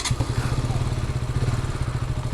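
A KTM RC 125 motorcycle engine running close by, a steady low rhythmic thrum like idling with even pulsing throughout, loud and alone.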